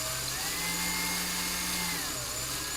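A handheld domestic drill with an ordinary drill bit bores into a part for a DL-44 blaster build, a steady high whine whose pitch dips and rises as the bit works, close and alone.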